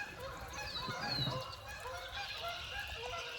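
Faint honking from several geese carries through a steady outdoor background during an April hailstorm, somewhat distant and intermittent.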